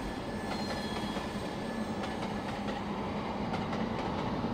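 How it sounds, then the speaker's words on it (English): A TGV Duplex train in the video game Trainz takes a tight corner, its wheels squealing and clattering steadily at close range under a continuous rolling rumble, with no talk. "going through a tight corner isn't the job of a TGV"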